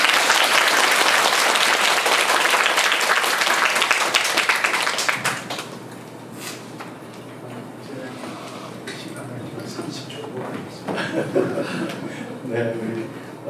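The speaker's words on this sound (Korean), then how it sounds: "박수 한번 쳐주세요." A lecture audience applauds loudly and densely for about five seconds at the end of a special talk on the Fourth Industrial Revolution, then the clapping thins into a quieter room with a voice speaking.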